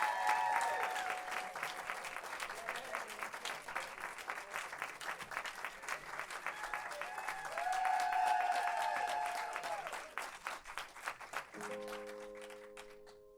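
A concert crowd at a private show applauds and cheers, dense continuous clapping with whoops rising mid-way, then fading as a few instrument tones sound near the end.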